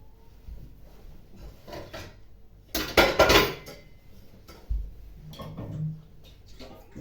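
A metal pot is handled on a kitchen stove while potatoes are readied for boiling, with scattered clanks and knocks and one louder burst of rattling metal against quiet pauses.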